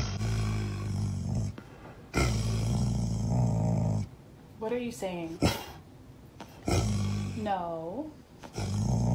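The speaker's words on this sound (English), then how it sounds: "We don't bark at the delivery man. Hold it in. Conflicted dog." A conflicted dog grumbles and growls at a delivery man in a few drawn-out, moaning bursts broken by quiet gaps, with a person talking to it in between.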